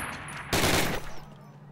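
A single burst of Call of Duty rifle fire at a range target, one sharp loud crack with a short decaying tail, alone after a quiet lead-in.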